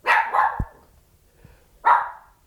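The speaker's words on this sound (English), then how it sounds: "sorry about the dog" A dog barks indoors, close and loud: two quick barks, a short pause, then one more bark, with no one talking.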